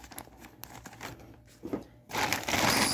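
Someone opens a parcel package with scissors, producing crinkling, tearing and crumpling sounds that grow louder and more continuous toward the end.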